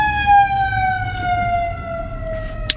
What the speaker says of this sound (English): Sorry about that fire engine coming.